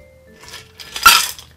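A cocktail is strained through a metal strainer into a small coupe glass, giving a few soft clinks and then a brief, close burst of ice and metal rattle near the end, with no talking.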